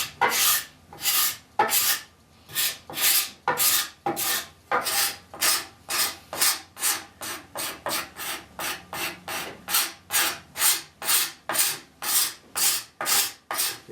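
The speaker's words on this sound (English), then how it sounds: "So I'm going to scrape it." A hand scraper rasps repeatedly along the top of a wooden chair arm rail, giving a steady rhythm of roughly thirty short, close scraping strokes with brief pauses between them and no talk.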